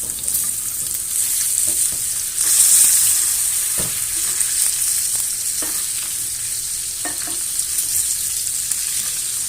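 Rib-eye steak frying in a cast iron pan while butter is spooned over it, a loud steady sizzle throughout with brief swells and occasional clinks of the spoon against the pan, no talking.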